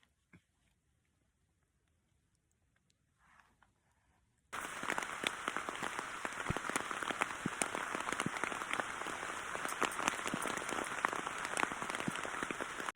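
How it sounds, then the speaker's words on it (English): After a few quiet seconds, steady rain abruptly starts pattering on a surface in the woods around six o'clock, a loud continuous hiss with scattered drops. "So it's raining."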